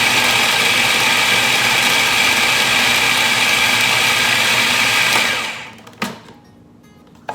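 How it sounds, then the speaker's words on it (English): A food processor runs loud and steady, finely chopping vegetables for oat and bean veggie burgers, then winds down and stops, followed by a brief clunk and near quiet. "I just want to process those veggies enough so that they're finely ground"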